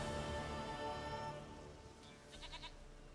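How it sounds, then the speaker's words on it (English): A goat in The Witcher 3: Wild Hunt lets out a single drawn-out bleat, fairly close and clear, fading at the end into a few faint wavering sounds, with no talking. "Goat of mine, dearest, sweetest goat."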